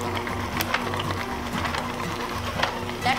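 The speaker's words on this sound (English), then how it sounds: "I'm gonna take my hand mixer and I'm just gonna mix this on medium-high speed for about 30 seconds" A hand mixer runs on medium-high speed through peanut butter cookie dough, giving a continuous whirring motor drone with a slightly uneven pulsing texture and a few clicks, close up and steady.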